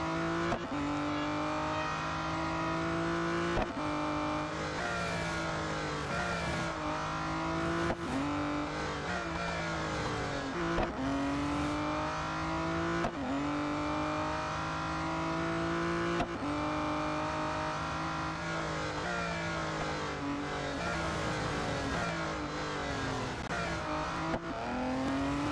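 Racing car engine in the Real Racing 3 mobile game, revving loudly and continuously through a lap with repeated gear-shift drops and rises, occasional tire squeal, and no talking.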